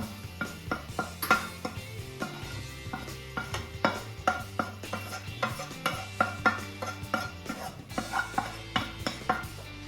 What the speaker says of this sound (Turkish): Şimdi çorbamı güzelce karıştırıyorum.